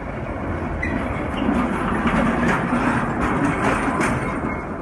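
A tram rolling along its rails on a street in Lviv, a steady loud rumble with faint wheel clatter building and holding as it draws near and passes.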